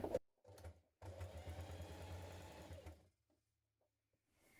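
A sewing machine runs a line of top stitching across the top edge of a tote bag pocket, a close, rhythmic motor whir lasting about two seconds after a couple of brief starts, then quiet.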